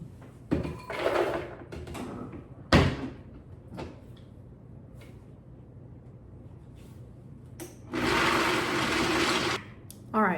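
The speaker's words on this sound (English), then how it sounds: "I don't have a food processor, so I attempted to use the Vitamix" A Vitamix blender chops a cup of almonds and walnuts in short bursts, loud whirring pulses of about a second and a longer two-second run, separated by quiet pauses with faint clunks.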